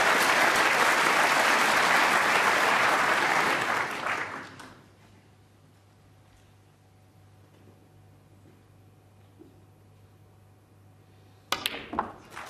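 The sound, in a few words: audience applauding a snooker century break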